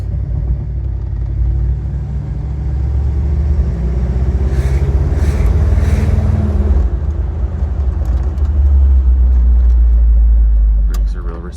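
A two-owner 1964 Chevy Impala SS convertible with its original 283 V8 and automatic transmission cruises along with a loud, steady low rumble and a brief swell of engine effort midway. Speech is faint or absent.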